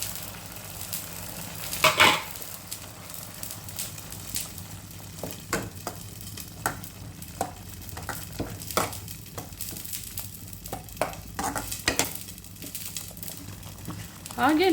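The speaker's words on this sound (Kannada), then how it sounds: "ಈ ರುಬ್ಬಿರುವಂಥ ಮಸಾಲೆಯನ್ನು ಸೇರಿಸೋಣ." Ground masala paste stirred into a pan of cooking snake gourd palya, with soft wet scraping and spoon clacks against the pot, intermittent and moderately close, over a low background hum.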